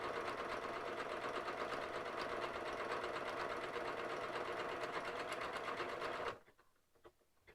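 A sewing machine runs a steady, fast stitching rhythm while sewing a buttonhole, loud and close, then stops abruptly near the end and leaves near silence.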